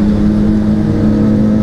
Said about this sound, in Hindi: one of the loudest bike है ये जिक्सर आर है